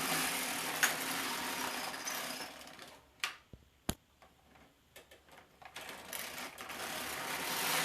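A Silver Reed LK150 knitting machine knitting stripes on a baby blanket, its carriage passes giving steady clattering and ticking, broken by a quieter stretch with a few sharp clicks before the rattling resumes.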